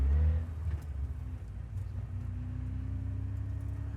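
Ariel Atom 4RR sports car with a 525 hp engine on a track pulling away in second gear at low speed, a steady deep low engine rumble with a rising tone, close and continuous.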